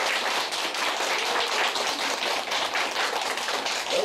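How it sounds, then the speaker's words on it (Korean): Lecture audience at a real estate talk in Gangwon-do giving loud, sustained applause, a thick even patter of many hands clapping close by, with no talk over it. "여러분 멀리서 오셨으니까 큰 박수 한번 드립니다"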